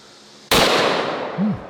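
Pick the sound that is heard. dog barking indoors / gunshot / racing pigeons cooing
gunshot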